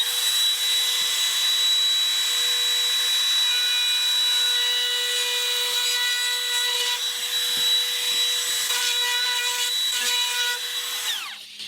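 A Metabo HPT router breaks the edges of wood with a loud, high, steady whine close by, its pitch dipping briefly when it bites into the workpiece, then spinning down at the end.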